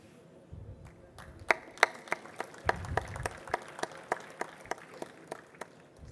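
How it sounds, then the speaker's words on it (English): Audience applause at a sugar technologists' annual conference, a thin, sparse spatter of claps with a few sharp louder ones standing out, fairly distant and low in level in a large hall. "Ladies and gentlemen, please welcome him with a huge round of applause."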